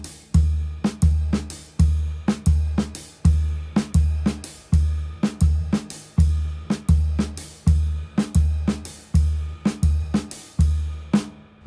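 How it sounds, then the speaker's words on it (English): A jazz drum kit phrase in triplet feel: kick with ride, a lone snare hit, open hi-hat, kick with crash, then snare alone. It repeats steadily with sharp, close, loud strikes and no talking. "So I'm playing kick and ride, snare by itself, open hi-hat, kick and crash, and then snare by itself"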